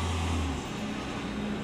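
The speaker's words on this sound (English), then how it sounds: "Truck pulls up." A garbage truck pulls up nearby, a low steady engine rumble with a brief tonal drone that shifts as it slows, heard alone without speech.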